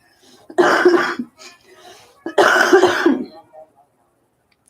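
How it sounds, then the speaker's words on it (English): Two harsh, rasping coughing fits, close and loud, separated by a brief pause, with small throaty sounds in between. "excuse me for all my stoner coughing"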